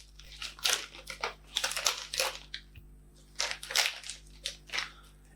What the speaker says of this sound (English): Let's crack in to a few nuts.